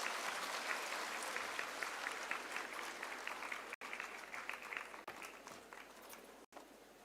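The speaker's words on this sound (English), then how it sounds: "Can we please give him a huge round of applause?" An audience at a Mahatma Gandhi Jayanti celebration marking the International Day of Non-Violence applauds continuously, a dense, even wash of clapping from a sizeable crowd heard alone, with a few brief dropouts.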